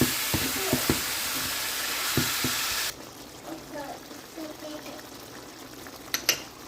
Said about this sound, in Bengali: এখানে আমি আদা বাটা দিয়ে একটু মাটনটাকে